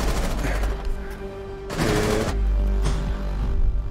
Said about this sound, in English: Hit you with those armor piercing bullets